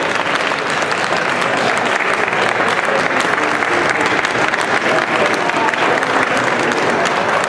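A restaurant audience at a chef's cooking show applauds loudly and steadily, dense clapping from many hands that carries on unbroken from start to finish.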